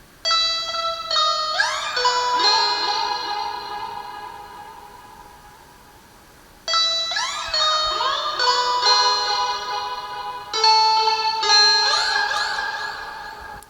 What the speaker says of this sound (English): my favorite synthy boy, the Roland SH01A, which sounds a bit like this